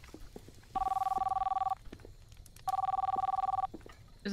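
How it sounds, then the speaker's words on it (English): A telephone on a wall inside a video game rings in two electronic trilling bursts of about a second each, separated by a short pause, fairly quiet over a soft background. "You think we hear that phone all the way here? That's a loud fucking phone."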